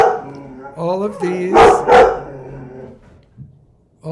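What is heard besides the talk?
Anatolian shepherd puppy barking and whimpering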